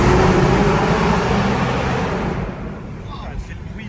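A supercharged sports car engine roars loudly under acceleration, a dense close rumble that tapers off near the end while a voice speaks over it.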